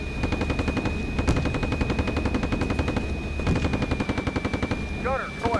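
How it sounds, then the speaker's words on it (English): Continuous rapid fire from a tank's coaxial machine gun in a war video game, with artillery thudding in the background, a steady mechanical hum and a faint voice near the end. "Artillery falling behind them and a tank coaxing in front."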